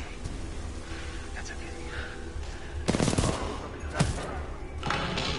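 Gunfire in the Titanfall 2 video game: two short, loud bursts of rapid shots over steady background game noise, with muffled voices around them.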